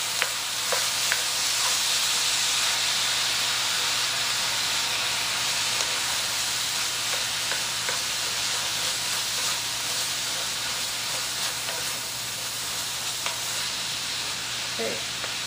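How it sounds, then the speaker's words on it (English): Ground turkey, onions and garlic sizzle loudly and continuously in a hot skillet, a dense, even hiss with faint scraping as the mixture is worked, and no talking over it. "you're just gonna work that turkey, onions and garlic all together."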